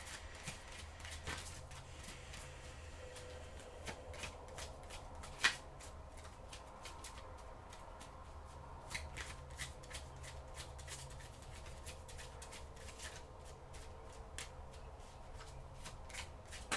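Oracle cards being shuffled by hand, a soft continuous riffling with scattered light flicks and taps, quiet and close throughout.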